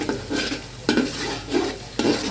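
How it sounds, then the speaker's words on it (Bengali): Onions and bay leaves being stirred in a pot for chicken biryani, giving rhythmic scraping strokes about every second, close and loud over a steady sizzle of frying, with no voices. "তেজপাতা দিয়ে এখন নাড়তে থাকি"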